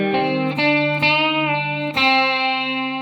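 Distorted electric guitar plays the main riff of a song, a short run of sustained, picked notes with sharp attacks at roughly half-second to one-second intervals, close and loud with no voice.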